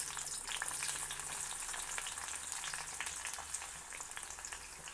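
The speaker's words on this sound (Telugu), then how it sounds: "నూనె వేడెక్కింది. ఇందులో ముందుగా ఉల్లిపాయ ముక్కలు వేద్దాము." Onion pieces hit hot oil in a pan for a tomato chutney, giving a steady, dense sizzle that crackles close and loud for the whole stretch, with no voices.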